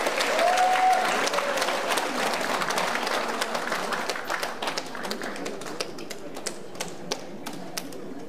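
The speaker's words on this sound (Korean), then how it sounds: "박수로 맞이하겠습니다." Audience at a lecture in Busan applauding to welcome a speaker, a sustained burst of clapping that starts strong and gradually thins into scattered sharper claps.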